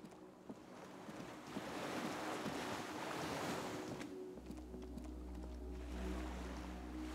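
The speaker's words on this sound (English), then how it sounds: "The skiff is swaying on the waves" Ocean waves washing around a swaying skiff in the video game Disco Elysium, a continuous rushing surf with gusty wind noise and a low steady rumble joining partway through.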